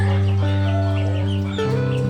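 Bangkok gamecock sick with snot, a respiratory flu causing snoring breath, giving steady nasal clucking and throaty tonal calls up close, a continuous low voiced drone that shifts pitch near the end.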